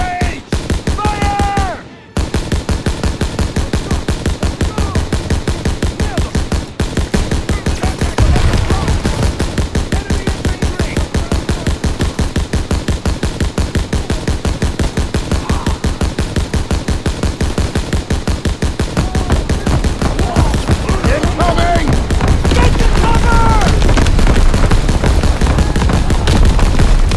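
Rapid gunfire from soldiers in a Call of Duty WWII battle runs nearly nonstop: dense, loud bursts of rifle and machine-gun fire, growing heavier toward the end, with distant shouting and game effects mixed in.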